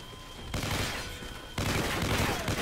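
Gunfire in the Call of Duty Ghosts campaign: loud, sustained bursts of automatic fire fill the whole stretch, surging again midway, with no clear voices.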